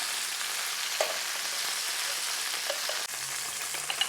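Italian sausage browns in a pan with a steady, bright sizzle, a few small pops and a short clatter partway through, and no voices.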